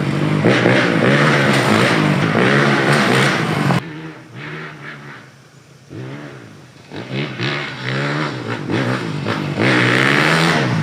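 A 2021 Honda CRF450RX dirt bike engine revs loudly and close, with rising and falling harmonic sweeps, a brief quieter gap midway, then strong repeated revving again.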